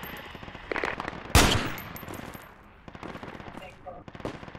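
Gunfire in the Project Reality video game: one loud, sharp shot or blast stands out, with rapid bursts of automatic fire around it at close and middle distance. Players talk over parts of the firing.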